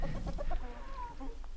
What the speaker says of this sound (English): They are just simple, basic chickens.